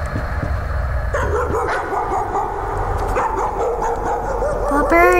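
Dog in the horror video game Layers of Fear, giving a run of sharp yips and whining, whimpering barks over an eerie ambient game soundscape, ending in a louder, higher rising whine.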